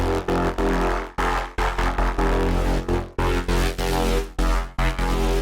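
Crunchy growl bass synth built from a wavetable in Bitwig Studio's Polygrid, playing short rhythmic stabs with abrupt gaps between them, loud and dense with no talking.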